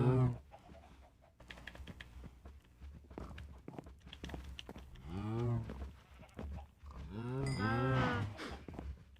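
Cattle on a farm low and moo several times, the calls close and drawn out, building toward the end over faint background clatter and no talk.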